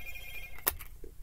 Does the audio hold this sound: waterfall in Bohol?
no